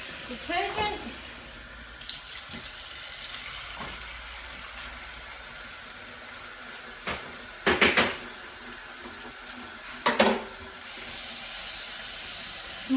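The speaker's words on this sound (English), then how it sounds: "We'll just fill the sink just with" Water runs from a tap into a kitchen sink filled with detergent, a steady close hiss throughout, broken by a few short clatters and splashes, with someone speaking briefly at the start.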